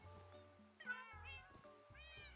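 Minecraft cats meow repeatedly, several drawn-out, rising mews in a row, quiet but clear over a low background drone.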